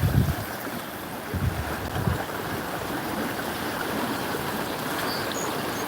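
A river flowing steadily outdoors on a warm day, a continuous broadband rush with wind buffeting the microphone, no voices.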